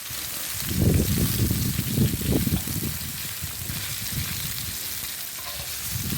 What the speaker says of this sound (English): I'm just going to stir them around and everything till they get all cooked.